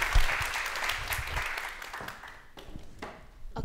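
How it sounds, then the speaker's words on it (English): Audience applause at a disability rights forum event, a broad wash of clapping that is loudest at the start and thins out over a few seconds, with a few separate claps lingering near the end. "please give Hannah a big round of applause for really making this forum event happen"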